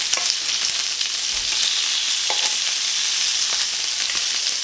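Bacon sizzles on a non-stick griddle in a bright, steady frying hiss, with occasional soft scrapes and taps as strips are lifted and shifted, loud and close without talk.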